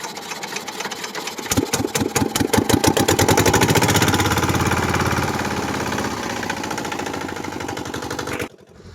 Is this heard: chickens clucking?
no